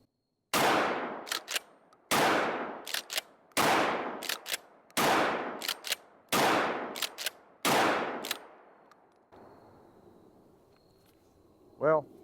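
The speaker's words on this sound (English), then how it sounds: "I'm gonna shoot over here." An Escort Bulltac 12 gauge shotgun fires six loud blasts outdoors, spaced about a second and a half apart, each with a short echoing tail and some mechanical clacks after it, followed by a brief quiet stretch.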